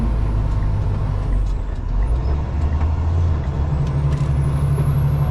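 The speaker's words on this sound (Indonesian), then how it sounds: "Ini truk." A truck rumbling past on a potholed road on the way to Dumai, with a loud steady engine drone and a hiss like an air brake, close and continuous, without talk.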